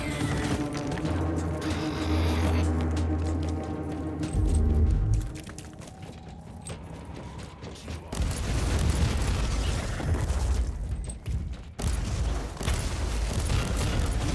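Fire attack explosions in the video game Inquisitor Martyr, a deep rumbling boom swelling over a low droning game soundtrack, then a dense crackling burst of blasts that carries on loudly to the end.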